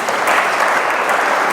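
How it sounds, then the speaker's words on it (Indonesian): A church congregation breaks into applause during a sermon: a loud, dense, continuous wash of clapping from a large crowd, heard close up and unbroken. "Tepuk tangan untuk Tuhan."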